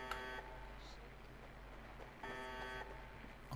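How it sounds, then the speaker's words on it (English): Electronic beeping in Fallout 4, a steady high tonal pattern over constant low game ambience, with the beeps returning in a second louder burst after a pause. "I don't like that beeping sound"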